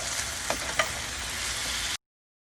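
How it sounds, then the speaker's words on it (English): Spices being stirred into a Cajun scampi sauce in a pan, with a steady close sizzle of frying and two short scraping knocks of the spoon, no talking. "Stir it all together."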